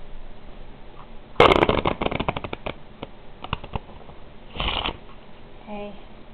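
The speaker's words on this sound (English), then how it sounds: "now I'm just going to shuffle the deck" A deck of playing cards is shuffled close up in a quick riffle burst of rapid fluttering snaps, followed by scattered softer card taps and a second brief riffle, with a faint voice at the end.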